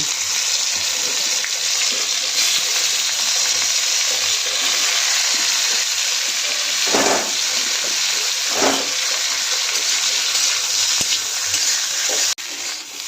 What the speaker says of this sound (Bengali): ফুলকপিটা এবার একটু ভেজে নেব